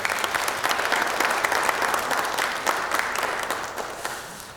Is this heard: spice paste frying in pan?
no